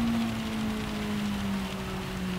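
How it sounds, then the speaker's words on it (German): Heavy rain during a race in Gran Turismo 7, a steady dense hiss of rainfall blended with a sustained engine drone in the background. "jetzt kommt nochmal heftiger Regen"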